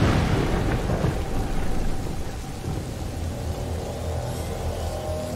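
Heavy rain pours steadily in the video game A Plague Tale: Innocence, a dense, loud wash with low thunder rumbling underneath throughout.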